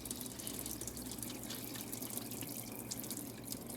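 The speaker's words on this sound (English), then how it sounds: "So right there, as you can see, we are draining the radiator." Engine coolant drains from a car radiator into a catch container as a faint, steady trickle and splash of liquid that continues evenly and alone without a break.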